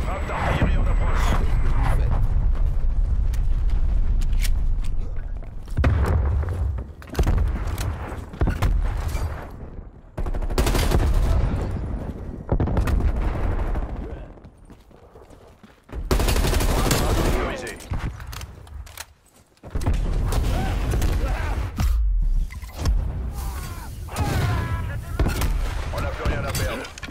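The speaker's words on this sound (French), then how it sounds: "Frappe d'artillerie en approche." Artillery strike in the Call of Duty Black Ops Cold War video game, with loud dense bursts of explosions and gunfire rolling on and off through the whole stretch, broken by brief lulls, with voices in the mix.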